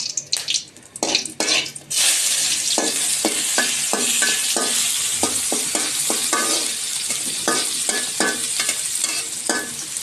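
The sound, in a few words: garam masala spices and onion frying in oil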